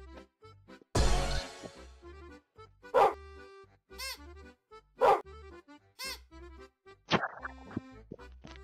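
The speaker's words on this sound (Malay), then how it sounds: "Semua anjing." Dogs bark in short, sharp bursts roughly a second apart, close and clear against a quiet background. A higher whining yelp comes near the end.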